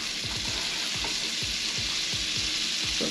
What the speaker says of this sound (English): So 2 tablespoons of butter, and I'm gonna get this melted a little bit.